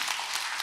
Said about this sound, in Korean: 하나님께 우리 감사의 박수 한번 올려드리겠습니다.